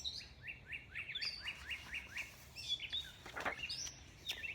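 A canary sings a quick series of bright, rising chirps, then a run of sharper trills and tweets, clear and fairly close against a quiet background with no speech.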